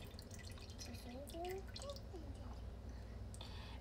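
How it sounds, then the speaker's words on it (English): Fresh ricotta curds drip off a slotted spoon into a colander, giving soft wet patters over a steady background hum with faint voices nearby. "drain it with the slotted spoon right into the colander"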